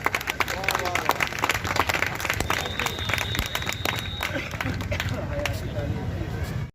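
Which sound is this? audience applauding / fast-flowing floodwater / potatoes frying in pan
audience applauding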